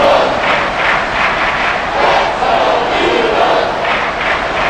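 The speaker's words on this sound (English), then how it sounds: "This crowd doing all they can." Roaring stadium crowd in the Madden NFL 24 video game during a Giants versus Eagles simulation, a steady loud wash of cheering that holds through the whole stretch with no speech.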